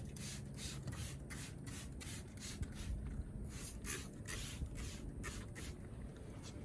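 All-purpose cleaner sprayed from a trigger bottle into a work truck's fender wells and liners: a faint series of quick, evenly repeated hissing squirts.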